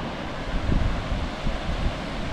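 Sea waves washing over rocks on the North Devon coast at Ilfracombe, a constant rushing roar mixed with heavy wind buffeting on the microphone, with no voices.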